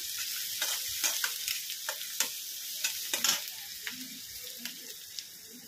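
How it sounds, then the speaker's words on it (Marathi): A spoon stirs turmeric into sautéed onions in a frying pan for a bhaji, giving repeated scraping strokes over a steady sizzle with no talking. "त्यामध्ये आपण आता थोडीशी हळद टाकून घेणार आहोत, हे असे मिक्स करून घेणार आहोत"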